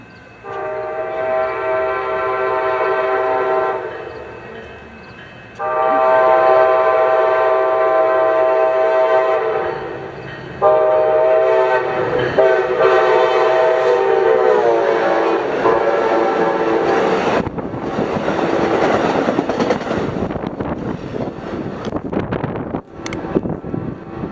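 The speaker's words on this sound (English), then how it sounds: "Our next train would be Amtrak 790 with SC44 Charger 2118 leading" Amtrak 790, led by SC44 Charger locomotive 2118, sounds its horn in several long blasts at Carlsbad Village Station, then rumbles loudly past with rising wheel and wind noise.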